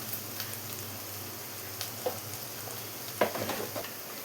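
Kashmiri chilli powder, chilli powder, pepper and garam masala heat in a pan on low flame, a faint, steady sizzle with a few soft stirring scrapes near the end.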